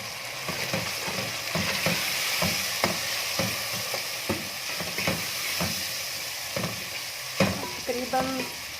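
Salt, chili and turmeric frying in a pan for a grapefruit sabzi, a steady close sizzle broken by regular scraping taps of a spoon stirring the spices, with clatter near the end.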